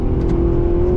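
Maserati Quattroporte engine accelerating on the Nurburgring, a loud, steady droning roar with a sustained hum, heard close from inside the car.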